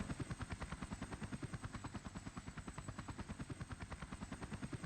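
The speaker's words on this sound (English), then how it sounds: "Our software out to the world with the cheapest possible distribution system helicopter" A helicopter delivers software in a business-simulation video game, its rotor chopping in a fast, steady pulse that stays loud and constant throughout, with no voices.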